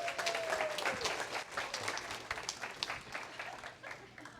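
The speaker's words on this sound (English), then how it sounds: "Let's give a round of applause" Applause from a small group, steady clapping that gradually thins out, fairly quiet and slightly distant.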